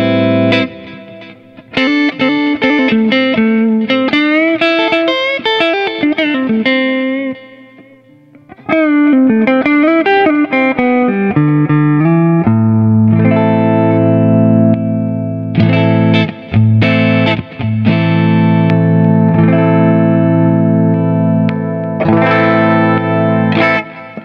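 A Stratocaster played with heavy effects and distortion, sustained chords and melodic runs ringing out loudly, with a thinner, brighter tone in the later part after the pickup is coil-split.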